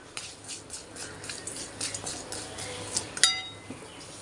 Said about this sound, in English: Now I'll add the spice mix in it